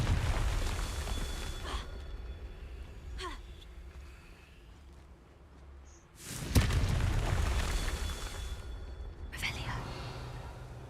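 Confringo blasting-spell explosions in Hogwarts Legacy: a couple of short cracking bursts early, then a loud booming blast with a rumbling tail near the middle, and a later burst, amid game ambience.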